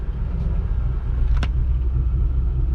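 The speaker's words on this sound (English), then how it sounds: "Starboard motor's still running." A boat's starboard motor runs steadily as a loud, close, continuous low rumble, with one brief higher click partway through; the port motor has been shut down after overheating.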